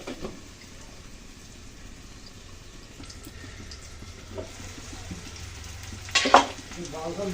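Cauliflower, potato and egg fry in a pan with a soft, steady sizzle that grows louder toward the end, marked by a sharp clatter of utensil or lid.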